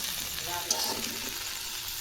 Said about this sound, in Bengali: বড় কড়াইতে আলু ভাজা হচ্ছে